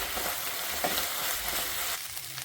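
Torn chapati pieces being stir-fried and tossed in a hot pan for chilli fried chapati, giving a steady close sizzle with scraping stirs throughout and no voices.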